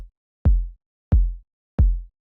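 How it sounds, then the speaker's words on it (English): Four deep, punchy saturated kick drum hits land at a steady interval, each a heavy low thump with a short tail, close and alone without talk. "like a really deep kick like that."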